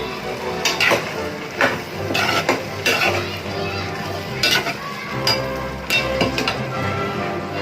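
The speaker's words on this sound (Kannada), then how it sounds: "ಈಗ ಮುಚ್ಚಳ ತೆಗಿತೀನಿ ಹೇಗೆ ಕುದೀತಾ ನೋಡಿ" The lid comes off a pot of cooking upma and a metal spoon stirs it, giving close clanks and scrapes against the pot over a soft background murmur.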